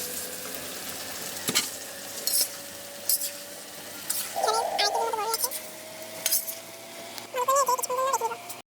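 Ginger garlic paste sizzles in hot oil in a pan for a pickle, with a steady frying hiss, scattered scrapes and clinks of a spoon against the pan, and a faint tone sounding underneath.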